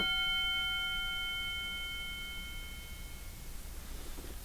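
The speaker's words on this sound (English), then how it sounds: "I'm going to ring the bell." A single strike of a meditation bell opens with a bright, clear ring whose sustained tones fade slowly over several seconds, heard alone in a quiet room.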